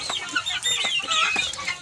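Several chickens, some with colds, cluck and chatter close by in quick, overlapping calls.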